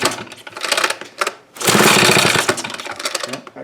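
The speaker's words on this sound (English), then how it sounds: "Close the choke so that don't leak out. And then try to start it." Small two-stroke leaf blower engine with a fuel fault, pull-started with the choke closed: a few quick pulls of the starter cord, then a brief loud sputtering bump of the engine that fades without catching.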